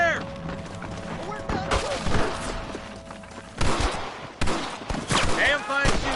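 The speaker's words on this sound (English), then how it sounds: "Damn fine shooting, boys." Gunfire rings out in a Red Dead Redemption gunfight, several sharp shots and bursts over a busy game soundscape, with voices talking in between.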